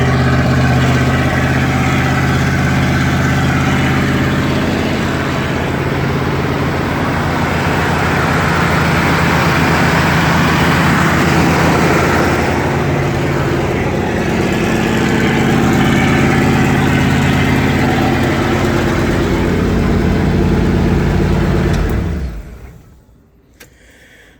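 A 1978 B350 camper van converted to a flatbed idles with a steady, loud, close rumbling drone that holds evenly, then cuts off abruptly near the end into near silence.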